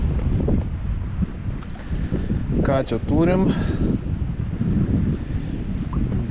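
Wind blowing hard over a lake from a small fishing boat, a constant loud roar of wind noise on the microphone with small waves, while someone talks briefly.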